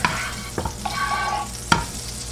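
Oil with a little butter sizzling and crackling in a frying pan, with a few brief scrapes and clinks as the pan is handled, close and steady throughout.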